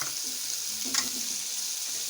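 Potatoes sizzle steadily in a pan with eggs, a soft continuous frying hiss with a brief stir around the middle, close and moderately quiet.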